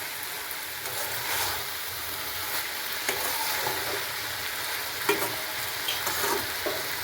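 Fried potatoes with ginger and green chilli being stirred in a pan, a steady broad sizzle with scraping strokes of the spatula throughout, close and continuous, no voices.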